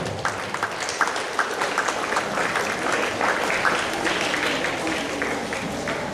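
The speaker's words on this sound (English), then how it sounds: "Let's applaud." An audience at an Independence Day celebration applauds steadily for a guest being welcomed with a bouquet, a dense, even clatter of many hands at moderate loudness.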